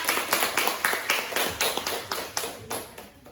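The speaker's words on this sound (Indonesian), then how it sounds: "Tepuk tangan untuk kelompok 3." An elementary school class claps for a presenting group, a short run of fairly quick, rhythmic, close claps from several children, evenly paced and tapering toward the end.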